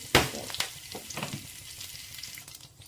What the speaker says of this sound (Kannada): ಆಯಿಲ್ ಬಿಸಿಯಾಗಿದೆ ಸ್ವಲ್ಪ ಸಾಸಿವೆ ಹಾಗೆ ಸ್ವಲ್ಪ ಕೊತ್ತಂಬರಿ ಸೊಪ್ಪು ಕರ್ಬೇವಿನ ಸೊಪ್ಪು